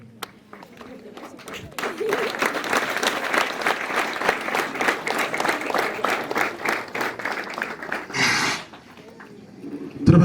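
A church congregation applauding children receiving the sacraments at a patron saint celebration, sustained crowd clapping that swells after a quiet start and fades out, with voices mixed in.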